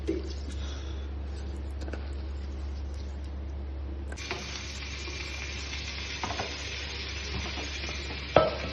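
Chicken mixed and stirred in a frying pan, a steady sizzle with soft scraping strokes and an occasional sharper knock near the end, close and moderately loud, with a low hum underneath.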